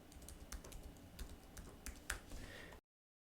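Keys on a computer keyboard are tapped in a quick, uneven run of soft clicks, heard close and quiet and alone, before cutting to silence.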